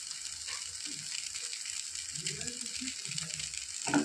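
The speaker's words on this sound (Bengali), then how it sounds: "সমস্ত মশলা দিয়ে ভালো করে কষিয়ে নেব।" Ground spices, cumin and chilli powder with green chillies, sizzling in oil in a pan for a fish curry, a steady faint hiss with soft scraping and stirring, a muffled voice low in the background, and a louder clatter at the end.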